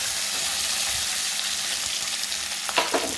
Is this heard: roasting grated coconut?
yes